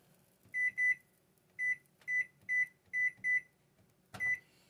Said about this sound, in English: So I'm going to start my timer.